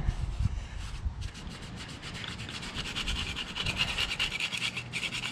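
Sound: scrubbing crud off under an engine mount

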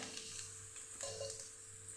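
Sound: mustard seeds sizzling in hot oil

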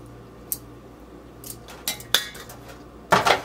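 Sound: adding vegetables and meat to pan for pancit bihon

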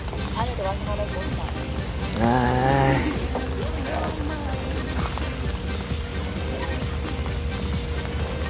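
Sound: rain falling on a fishing boat

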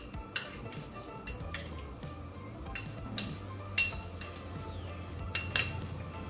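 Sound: stirring and roasting wheat flour in ghee for halwa

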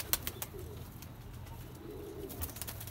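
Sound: pigeons cooing

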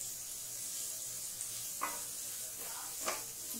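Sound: chopped onions frying in oil on medium flame

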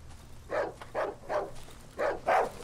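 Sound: dog barking in Darkwood video game

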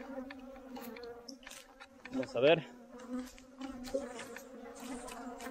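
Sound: swarm of bees buzzing

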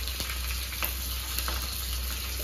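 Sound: curry leaves sizzling in hot oil with mustard and cumin

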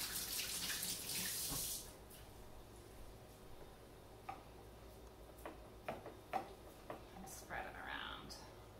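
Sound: tap water running to moisten hands

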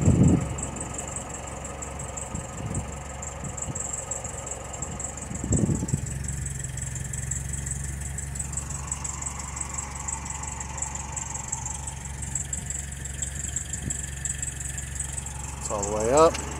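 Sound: Citroen DS engine idling

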